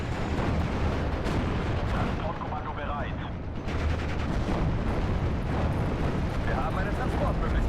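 Off-map artillery strike landing in Steel Division: Normandy 44, a dense, continuous rumble of shell impacts and gunfire rolling on throughout, heavy and loud, with spoken voices faintly under the barrage.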